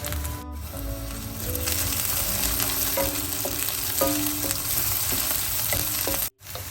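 Onions and green chillies fry steadily in hot oil, a dense, continuous sizzle with occasional scraping stirs, close and fairly loud throughout, ending with a brief break.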